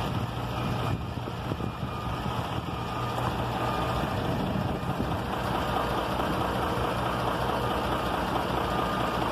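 Renault 155-54 tractor with a 150-horsepower MWM engine idling, a steady, close diesel rumble with a constant low drone and no talk.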